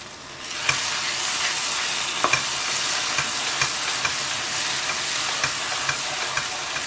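A teaspoon of cumin seeds sizzles in hot oil over a low flame for butter chicken, giving a steady close fizzing hiss with a few small pops and light clicks, no talking.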